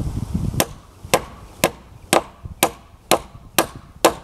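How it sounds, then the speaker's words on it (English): Eight sharp, evenly spaced hammer blows drive nails into a twisted wooden beam while a shed roof is framed, each strike close, loud and ringing with a steady rhythm and no talk. "I'll make sure I put plenty of nails in it."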